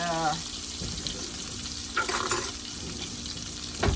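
Spinach frying and being stirred in a pan where bacon was just cooked, giving a steady close sizzle with scraping stirs and a brief louder clatter near the end.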